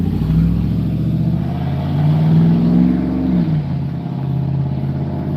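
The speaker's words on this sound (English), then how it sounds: "y'all, that truck is loud" A loud work truck drives past outdoors, its engine rumbling close by and rising then falling in pitch as it goes, heard alone without talk.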